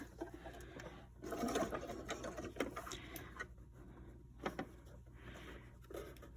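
A sewing machine top-stitches a fabric mask with a straight stitch at length 1.4, producing quiet, intermittent mechanical rattling bursts with short pauses between runs.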